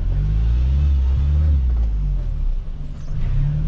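A 4x4 car engine rumbles loud and low while maneuvering on a narrow, steep road between traditional houses, with a steady drone that rises and falls slightly in pitch.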